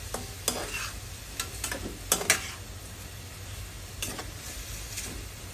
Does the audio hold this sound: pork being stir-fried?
yes